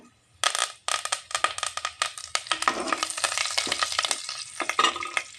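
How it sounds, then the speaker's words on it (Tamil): Vadagam, dried red chillies and curry leaves dropped into hot oil for tempering, an abrupt crackling sizzle that bursts in, then keeps popping and spattering close up with stirring scrapes, no talking. "இப்போ தாளிப்பு வடகம் வரமிளகாயும் ஆட் பண்ணிக்கலாங்க"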